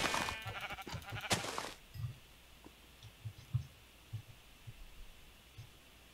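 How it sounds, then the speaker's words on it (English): Sheep in the Industrial Craft 2 video game bleat loudly at the start while being attacked. Soft thuds follow over a quiet hum. "Why are you killing the sheep?"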